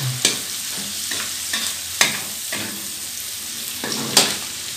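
Mie goreng noodles are stir-fried in a pan, a soft steady sizzle broken by several sharp scraping clacks of a utensil against the metal.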